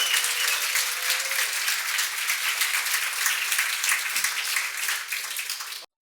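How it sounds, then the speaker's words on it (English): A conference audience at FinOps X Europe applauds the speakers, steady loud applause from many hands that fills the room and stops abruptly at the end. "Round of applause for Michael Kearns and Alexander Johansson."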